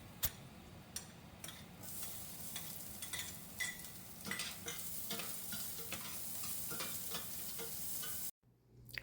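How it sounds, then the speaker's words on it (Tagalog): Garlic and onions sauté in a pan for Filipino kare-kare: a close, even sizzle broken by sharp spatula taps and scrapes, cutting off abruptly near the end. "Now I'm going to saute the garlic and the onions."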